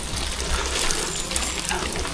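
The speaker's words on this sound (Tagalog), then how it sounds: "Shower." Shower water runs steadily, a dense broadband hiss with a low rumble that stays even and close throughout, with no voices.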